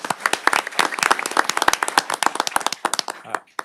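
A small group at a city council meeting claps, giving sharp, distinct hand claps in a quick, uneven patter close by that thins out toward the end, with a brief murmur of voices.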